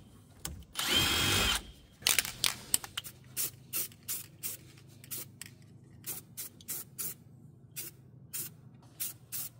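A worn wire wheel spun by a power drill gives a loud whirring grind for about a second, then quieter intermittent bursts and short clicks follow at an irregular rhythm, close up in a workshop.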